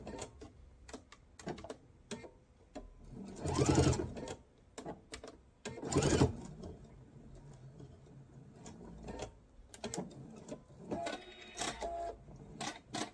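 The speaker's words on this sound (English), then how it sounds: "I'm going to sew all the way to the end, and then I'll reverse and come back to reinforce the end of it" Bursts of sewing machine stitching on a mesh tote, running forward and then in reverse to reinforce the seam end, with short runs and pauses and louder passages in between.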